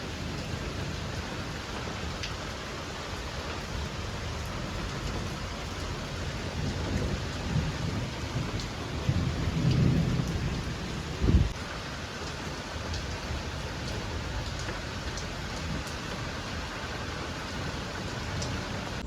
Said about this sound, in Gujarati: જોરદાર વરસાદ આવે